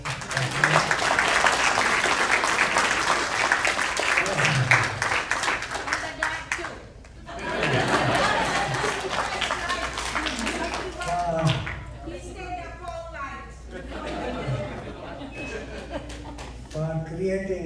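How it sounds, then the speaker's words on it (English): Audience applause rises as sustained clapping in a room, loud for the first several seconds and continuing in waves with a brief dip, while a person speaks over it at points. "applause"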